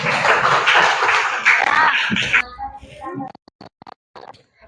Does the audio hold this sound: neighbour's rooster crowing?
no